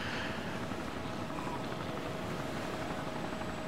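Helicopter hovering overhead in the video game DayZ, a steady loud rotor and engine roar that fills the whole moment without a break or any talk.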